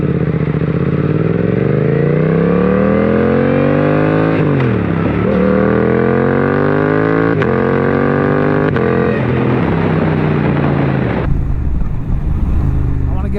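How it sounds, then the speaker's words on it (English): A 2024 Suzuki GSX-8S fitted with an M4 full exhaust, riding loud and close as the engine climbs through the revs in rising pulls, dipping between gear shifts, with wind buffeting throughout. "this M4 full exhaust for your 8S"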